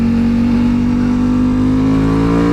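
A Ducati Panigale V4 Tricolore Italia motorcycle engine revs loud and close, a steady high-pitched tone that rises slightly in a short burst.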